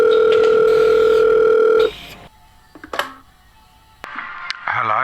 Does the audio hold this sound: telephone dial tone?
yes